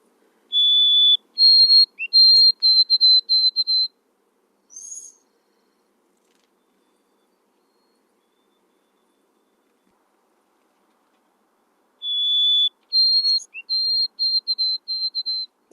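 A recorded winter sparrow song plays back as two clear, high whistled phrases, each a held note followed by a string of shorter notes, separated by silence.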